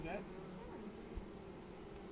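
Honey bees drone steadily in a hive, a continuous low buzz at a faint level with no other sounds.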